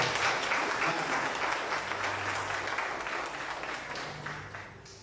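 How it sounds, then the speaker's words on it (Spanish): A church congregation applauds together at a worship service marking a 30th anniversary, a steady, full wash of clapping that slowly tapers, with faint musical tones humming underneath. "Aplauso al Señor, Él se merece."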